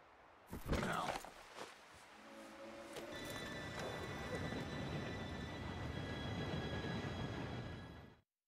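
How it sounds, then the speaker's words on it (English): A train pulls in during the Red Dead Redemption 2 video game: a few heavy clunks come first, then a steady, loud rolling rumble with high metallic squealing tones that fades out at the end. "Train should be here any minute."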